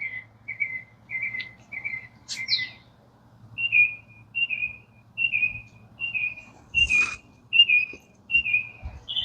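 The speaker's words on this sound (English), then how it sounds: "You hear how loud that bird is?" A bird in a Florida garden in May repeats a loud, clear whistled call again and again at a steady rhythm, with a low hum and insect-like buzz underneath.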